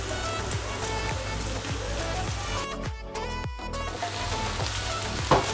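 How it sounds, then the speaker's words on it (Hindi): Okra frying on high heat in a pan, a steady dense sizzle with crackling pops, briefly quieter near the middle, loud and close with no talking. "आपको खुद अंदाज़ा होता रहेगा कि जो है भिंडी फ्राई हो रही है"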